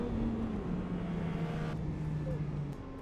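A Yamaha MT-09 motorcycle engine drones with a falling pitch, as if easing off or passing by, then fades a little near the end.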